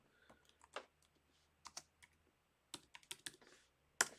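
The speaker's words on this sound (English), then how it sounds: "If it lets me type here." Fingers typing on a computer keyboard, a few scattered clicks followed by quicker bursts of keystrokes and one sharp final tap, close and quiet in an otherwise still room.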